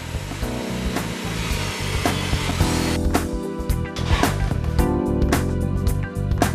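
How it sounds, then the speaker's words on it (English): A power drill whines steadily as it bores holes for eyelets in parachute parts, grinding and rough, with the bit's pitch shifting slightly as it cuts. "Now drilling. We drill holes."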